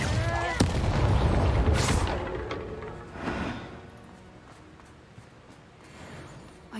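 Incendio fire spell cast in the Hogwarts Legacy video game, a loud whooshing burst with booming impacts followed by fading crackles, with voices briefly heard.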